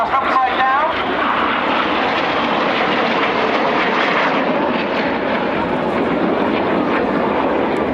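Red Arrows synchro pair jets roar past upside down at a Dutch Air Force Days air show, a loud sustained rushing engine noise filling the whole span, with a commentator speaking over it.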